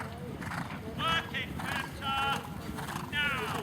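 Horses canter in a team dressage display at a European two-star eventing competition, their hoofbeats a soft, rhythmic clip-clop under a commentator's voice.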